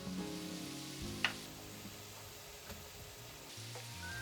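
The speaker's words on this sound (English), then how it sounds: "I keep boiling it and I cook the mackerel for about 5 minutes." Mackerel simmering in a miso sauce in a pan, a soft steady bubbling sizzle held low and close throughout, with a brief clink partway through and no talking.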